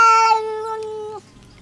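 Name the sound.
cat meowing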